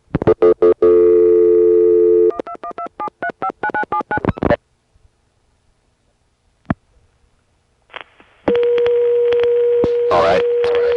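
Rapid telephone dialing tones and clicks are followed by a steady, loud high-pitched tone from a New York number on an early-1980s Centrex exchange, with a brief faint voice between.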